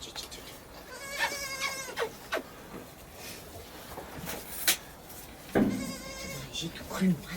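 Young goats bleat loudly at a farm called Candelon in drawn-out wavering calls, one early and another near the end, with people talking softly nearby between the cries.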